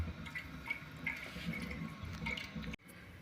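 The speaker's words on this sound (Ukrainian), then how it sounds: "коли у нас труби заповняться водичкою, вона звідси почне витікати" Water trickles and drips out of underfloor heating pipes while a circuit is filled during a boiler's first start-up in an apartment. The sound is faint and steady, then drops away abruptly near the end.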